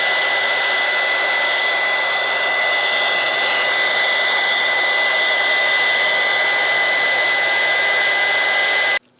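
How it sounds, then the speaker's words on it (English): A heat gun blows steadily, loud and close, as vinyl wrap is shrunk over a Honda Civic Hatchback Sport badge, a constant airy roar that cuts off abruptly at the end. "now we're gonna hit it with the heat gun again, and it'll kind of shrink wrap right over it"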